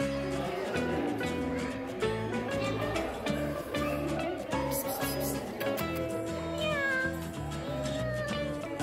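Cats meowing at the Van cat house in Turkey, drawn-out mews rising and falling over a constant bed of loud background music and room noise.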